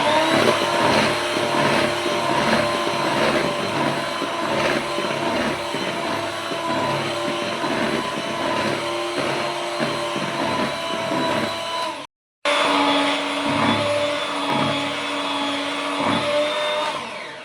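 An electric beater whirs steadily through chocolate sponge cake batter made with oil, running loud and close with one brief stop near the end before starting again.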